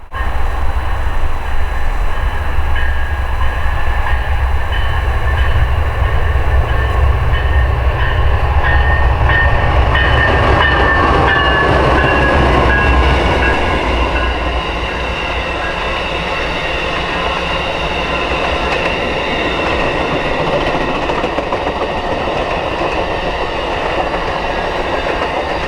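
A passenger train rumbles steadily past at close range in heavy snow, wheels clacking and a faint squeal over a heavy continuous roar.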